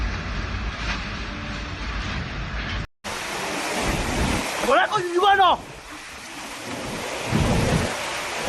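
A violent storm with thunder, heavy rain and strong gusts of wind over a city, a steady roaring downpour with rumbling thunder and a brief break, while voices speak over it.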